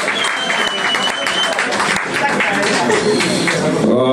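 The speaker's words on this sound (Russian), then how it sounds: "Ваши бурные аплодисменты" Audience applause fills a rock bar during a guitar night, dense steady clapping with shouts and voices mixed in throughout, loud and close for the whole stretch.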